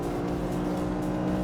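A race car's engine pulls hard at full throttle in fifth gear on a track, a loud, steady high-rev drone close to the microphone throughout, with no voices heard.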